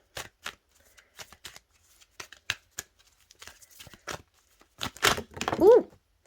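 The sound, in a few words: shuffling a deck of oracle cards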